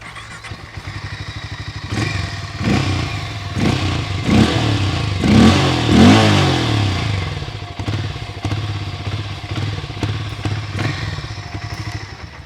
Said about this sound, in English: Right from the moment that you fire up this engine and rev it up, its character becomes stark clear.